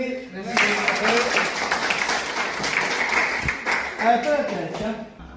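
An audience claps and cheers at a children's magic show in Lausanne. The applause is steady and fairly close, runs about four seconds, swells briefly near the end, and someone talks over it.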